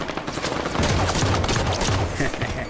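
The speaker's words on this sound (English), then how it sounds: "Incoming fire!" Rapid automatic gunfire from the Halo 5 4v4 Slayer multiplayer match, a dense continuous rattle of shots filling the clip at close range, with no clear talk over it.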